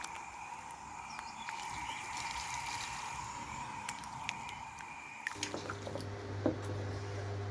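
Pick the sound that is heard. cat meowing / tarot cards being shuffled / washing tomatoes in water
washing tomatoes in water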